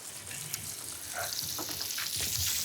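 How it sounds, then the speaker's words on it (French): Duck breast fries in a pan, giving a steady, dense crackle and sizzle with small pops throughout, close and fairly loud. "On entend, ça crépite."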